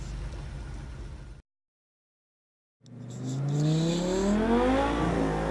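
A Porsche Carrera GT engine in the Project Cars 2 racing game revs up after a short silence, its rising harmonic whine sweeping upward through several gears, loud and close with no talking.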